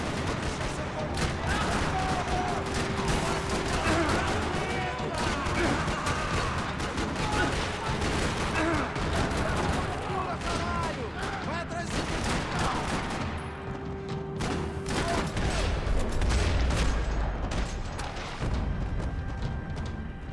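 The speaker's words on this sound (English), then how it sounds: "Another parking lot rattling with gunfire." Sustained gunfire in the video game Max Payne 3 crackles throughout a parking lot shootout, dense bursts of rapid shots with occasional booms, loud and continuous for the whole stretch.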